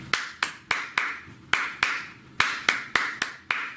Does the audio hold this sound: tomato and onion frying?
no